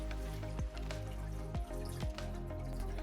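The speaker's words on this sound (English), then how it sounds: "we start to put the water against something that breaks the fall of the water so it doesn't disturb the scape" Water poured onto a driftwood centerpiece to fill a betta aquarium, close splashing and dripping with a few distinct gurgling plops over a steady trickle, fairly loud.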